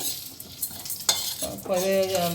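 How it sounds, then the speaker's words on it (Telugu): Cumin seeds and rice are dry-roasted in a pan. A few stirring scrapes are followed by a soft sizzle and clinks of a spoon against the metal, all close and brief, with no talking. "కొంచెం జీలకర్ర ఏమండి కొంచెం బియ్యం వేసాను ఇవి బాగా దోరగా వేసుకొని"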